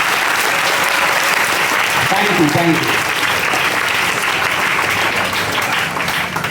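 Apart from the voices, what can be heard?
audience applause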